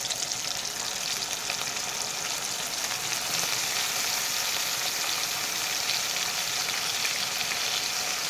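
Chicken pieces frying in oil with onions, green chilies and tomatoes in a pan make a continuous, even sizzle that stays steady and fairly close for the whole stretch, with no voices over it.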